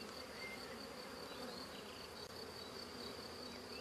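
Honey bees swarm over a beehive frame, producing a steady, dense buzzing hum with a constant pitched drone throughout, close and moderately quiet with no speech.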